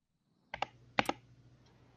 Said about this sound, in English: So what are you typing so loudly on? My keyboard.